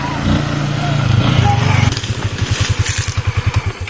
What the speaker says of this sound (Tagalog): Daghan ang motor nga mo agi.